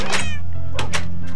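A cat meows in the video game Minecraft, with a short call followed by two quick mews close by, over a steady low game-music hum.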